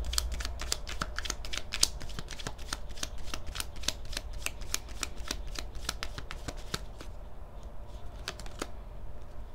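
Tarot cards being shuffled, a continuous quick riffle of crisp card flicks close up, steady throughout and thinning slightly toward the end.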